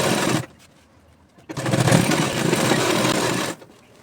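A sewing machine stitches a salwar pocket in two bursts of steady, close, whirring motor and needle clatter, with a short quiet pause between them and a sudden stop at the end.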